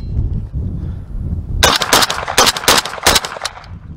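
An MK12 rifle on a JTS T-1 adjustable gas system fires five rounds in a quick burst outdoors. The loud sharp reports come close together after a quiet stretch of wind rumble.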